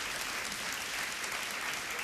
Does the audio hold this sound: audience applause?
yes